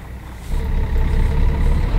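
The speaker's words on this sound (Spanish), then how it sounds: "apreciar más el sonido del motor que mi voz" Invictus bus engine idling in Euro Truck Simulator 2, a steady low rumble that thickens and grows louder about halfway through, with no talking.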